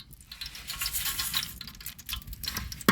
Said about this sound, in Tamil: மீன் குழம்புக்கு உருளி வச்சுக்கலாம், ஆயில் சேர்த்துக்கலாம், தாளிப்புக்கு வெந்தயம் சேர்த்துக்கலாம்